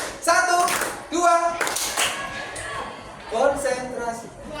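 A group claps together in a counting rhythm game at a teachers' coaching session, with sharp bursts of claps landing in uneven rhythm among several voices chanting and talking.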